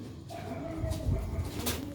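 Sialkoti rooftop pigeon cooing softly up close, a low rolling coo swelling midway through a short stretch with faint background noise.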